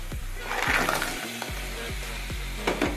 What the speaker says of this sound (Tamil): நண்டை சேர்த்துக்கலாம்.